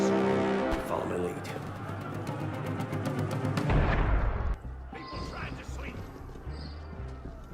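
Heavy booming cannon blasts in Assassin's Creed Unity roll out in a loud, dense barrage that fades after a few seconds into a quieter rumble.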